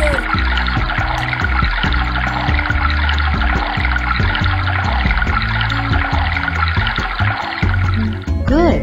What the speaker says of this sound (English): Now pour full cup of water.